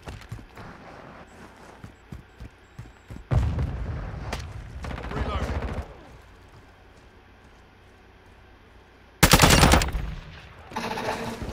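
Gunfire rings out in a first-person shooter video game: scattered taps lead into loud sustained bursts of automatic fire, a pause, then another sharp, heavy burst near the end, with quieter game noise between.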